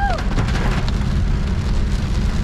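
Steady rain patters down with a constant hiss, while a low engine rumble sits underneath the whole time, heard on a road during an electric scooter ride.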